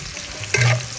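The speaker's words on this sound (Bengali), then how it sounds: "এবার আমি দিয়ে দেবো মরিচ কুচি ও পেঁয়াজ কুচি। তো এবার নাড়তে নাড়তে বাদাম কালার হয়ে নেব" Chopped chillies and onions are stir-fried in a pan, a brief close sizzle with one louder scrape and rattle of the spatula partway through, no voices.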